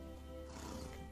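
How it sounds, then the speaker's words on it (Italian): A horse whinnies in the medieval stealth game A Plague Tale: Innocence, a short neigh over a steady low game-ambience hum, close and moderately loud. "Oh, bello questo cavallo."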